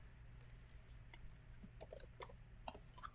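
Someone types on a computer keyboard in an irregular series of sharp, close key clicks and taps, some sparse and some in quick bursts, over a low background hum.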